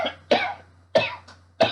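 A man gives three harsh, wet coughs at roughly even intervals, each one loud and close, with short quiet gaps between them.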